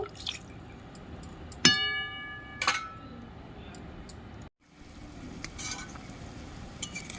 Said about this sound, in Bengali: ঝোলটা ভালো মতন ফুটে উঠেছে